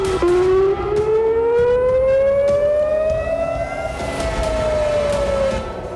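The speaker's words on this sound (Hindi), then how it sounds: "और इजराइल में सायरन गूंजते रहे।" A loud air raid siren wails steadily in Israel during a night of attacks, its pitch slowly rising and falling over several seconds with no voices present.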